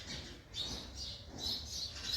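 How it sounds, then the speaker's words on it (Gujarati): Sparrows chirp in the morning, faint repeated high chirps in short bursts over a quiet outdoor background, with no talking. "ચકલીઓ બોલી રહી છે"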